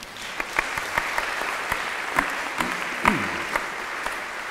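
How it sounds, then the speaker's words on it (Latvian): An audience applauds at a concert performance of Stravinsky's Soldier's Tale, a steady wash of clapping with scattered sharper individual claps, moderately distant and without speech. "Aplausi."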